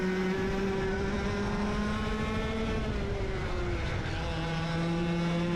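Racing karts at a club race drone steadily with layered, shifting engine tones as several karts run together on the track, continuous and fairly close with no talk.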